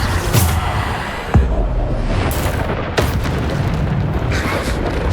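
Hogwarts Legacy combat with the Bombarda explosion spell: a continuous roar of blasts with two sharp booming impacts standing out, dense and loud, with no talk.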